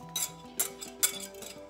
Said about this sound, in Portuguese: E eu vou adicionar as gemas com a farinha maisena.